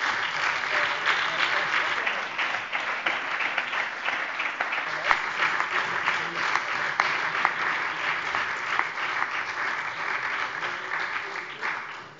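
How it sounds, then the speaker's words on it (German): Sustained, dense applause fills a German parliamentary plenary session, a steady roar of many hands clapping for around ten seconds before tapering slightly at the end. "Der Applaus hat jetzt 10 Sekunden gedauert."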